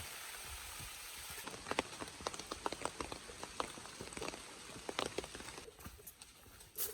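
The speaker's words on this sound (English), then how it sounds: "Back in the woods, back in the rain." Soft rain patters steadily in the woods, with scattered close drips and taps over a quiet, hissing background; no voices.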